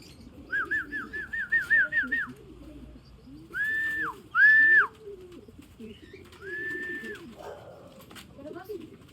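Racing pigeons arriving at the loft during a 107 km fun race give several short, bright whistled calls in quick bursts, with people talking faintly underneath.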